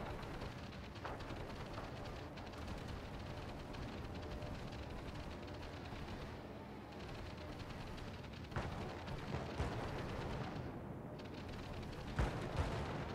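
American battleships throwing up anti-aircraft flak, a continuous distant rumble of massed gunfire with occasional sharper cracks, faint and steady throughout.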